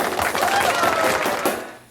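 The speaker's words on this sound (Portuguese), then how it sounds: "Uma salva de palmas, por favor, aí." Church congregation applauding in a hall during an anniversary celebration, a short burst of dense clapping mixed with voices, fairly close and loud.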